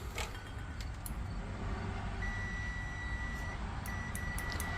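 A multimeter on continuity setting gives a steady electronic beep during a garage door keypad repair, a thin sustained tone that starts partway through and resumes after a short break, faint over a low background hum.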